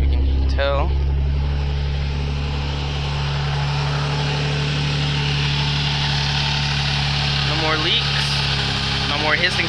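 SE R car engine idling steadily after a blow-by gas hose replacement, a constant low hum with mild vibration, close and continuous, while a person talks briefly over it.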